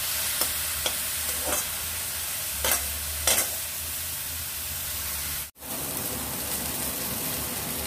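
A steady, hissing sizzle of sattu flour dry-roasting fills a pan throughout, broken by a few quick scraping stirs and one brief dropout, close and continuous.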